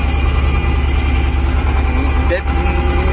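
Tractor engine running close by, a loud steady low idle drone with a constant mechanical hum throughout.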